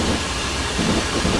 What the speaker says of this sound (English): now braking the train once we get closer to the station